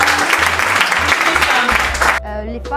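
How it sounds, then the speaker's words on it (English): Audience applause at a community closing ceremony, dense clapping filling the space with low music or hum underneath, then cutting off abruptly near the end as a voice takes over. "Please make that clap louder."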